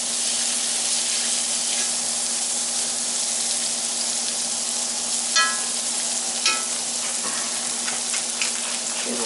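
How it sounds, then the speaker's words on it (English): A rib eye steak sizzles steadily as it fries in a pan, a continuous close hiss with a few brief pops and crackles, no talking over it. "And we'll throw the steak in."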